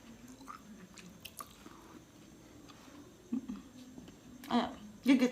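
Betel nut with lime paste being bitten and chewed up close, giving soft wet squishing and crunching, with a few louder bites near the end and quiet voices in the background.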